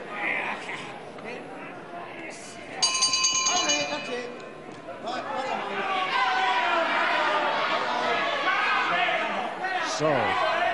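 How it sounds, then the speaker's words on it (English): Ring bell clanging at a televised professional wrestling bout between Mick McManus and Alan Sargeant, ringing out around the three-second mark over steady crowd noise and a commentator's talk. "Bell went a little bit late."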